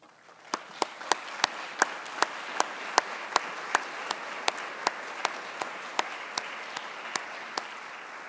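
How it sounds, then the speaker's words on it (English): An audience at a university spring convocation applauds the standing search committee, with sharp individual claps ringing out steadily over a softer wash of hall noise for several seconds. "allow us to thank you with our claps"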